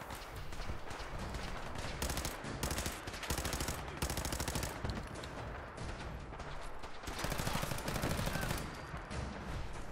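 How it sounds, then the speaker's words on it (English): Loud, rapid bursts of automatic gunfire fill a video game firefight against robots and enemy gunners, rattling almost without pause, with short gaps between volleys. "I gunned down that gunner"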